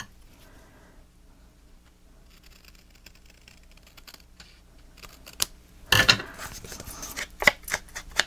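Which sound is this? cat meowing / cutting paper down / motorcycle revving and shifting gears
cutting paper down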